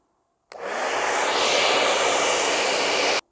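A heat gun blasting hot air onto the plastic trim of a Can-Am Ryker 900 starts abruptly and roars steadily for nearly three seconds at close range, then cuts off sharply, with no talk over it.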